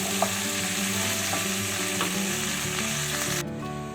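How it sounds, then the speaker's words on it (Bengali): Vegetables for dudh shukto fry in hot oil with a dense, continuous sizzle and crackle, close and steady, with occasional stirring, fading slightly near the end. "ভাজা হয়ে গেছে। এবার ভাজাগুলো আমি তুলে দিচ্ছি।"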